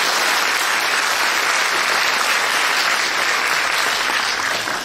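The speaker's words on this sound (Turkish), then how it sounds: "Beğendiyseniz bir kez daha alkışlayabilirsiniz" Audience at a kindergarten year-end show clapping in dense, loud, unbroken applause that holds steady for several seconds.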